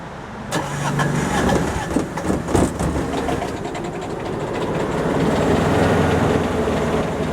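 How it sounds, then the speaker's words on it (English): A portable generator cranks after a brief quiet moment, catches, and settles into a loud, steady running drone, close by. "The generator will start up."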